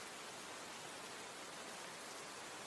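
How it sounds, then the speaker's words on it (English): Steady rain falling, a dense, even hiss of drops that holds without pause from start to finish at a soft, distant level. "it is raining"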